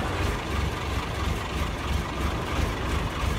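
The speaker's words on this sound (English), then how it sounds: "So we'll give it a start up." A Magirus Deutz Transeuropa truck in Euro Truck Simulator 2 idles just after start-up, a steady, close, low diesel rumble with no talk over it.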